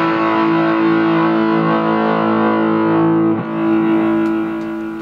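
Distorted electric guitar through a Blackstar ID amp with a tapped delay and reverb, loud sustained chords ringing for several seconds with a brief change of chord, repeats trailing behind, and no voices.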